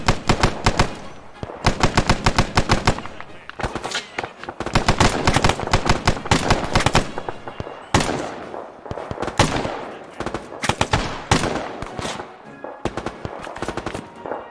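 Dense squad gunfire in a WWII video game battle at Salerno: rapid machine-gun bursts and rifle shots crackle loudly in repeated volleys, with only brief gaps between strings of fire.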